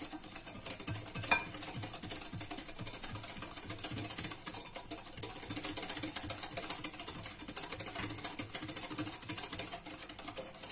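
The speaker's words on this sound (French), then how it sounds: "Vous allez tourner, remuer." Spoon stirring crème brûlée mixture, a steady soft scraping and clinking rhythm kept up throughout at close range.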